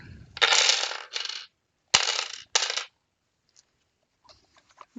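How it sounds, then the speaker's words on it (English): Bursts of British coins clattering and jingling as they are poured and dropped while sorted, two loud clusters separated by short pauses, close by. "we've got a load of coins. Sorry, this is going to get noisy."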